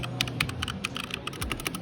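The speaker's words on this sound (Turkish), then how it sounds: "Şurada bir HyperX'in mekanik klavyesi var arkadaşlar." Rapid typing on a HyperX mechanical keyboard, a dense run of sharp, close key clacks at an uneven rhythm with no talking.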